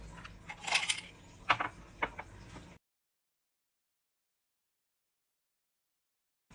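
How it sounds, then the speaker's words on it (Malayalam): Ice cubes dropped into a glass for a pineapple chilli cocktail make a quick run of bright, close clinks and knocks over about three seconds, then the sound cuts to silence. "ഐസ് ആഡ് ചെയ്യാം നമുക്ക്."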